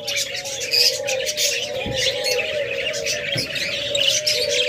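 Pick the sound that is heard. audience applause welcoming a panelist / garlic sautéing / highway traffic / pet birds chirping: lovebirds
pet birds chirping: lovebirds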